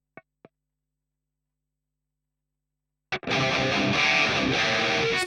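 A heavily distorted electric guitar rings out through a NUX amp with gain set around 25, bursting in loudly after two faint plucks and near silence.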